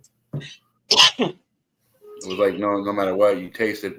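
A single sharp sneeze bursts out near the start, close and loud, after a brief vocal sound; a person then talks steadily through the rest.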